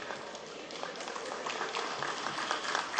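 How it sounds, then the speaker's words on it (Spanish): Applause in a plenary session of Peru's Congress, a faint, distant, diffuse patter of clapping across the chamber that swells slightly toward the end. "pido un voto de aplauso"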